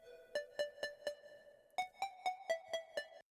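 A dry synth lead with its effects switched off plays short plucked notes in a steady pulse, a pause, then a second run of slightly higher notes, clean and close with no voices.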